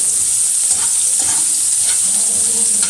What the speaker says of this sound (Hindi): अदरक लहसुन डालेंगे, अच्छी तरीके से इसको हल कर लेंगे।